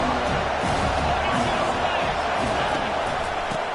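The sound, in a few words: stadium crowd noise in College Football 25 video game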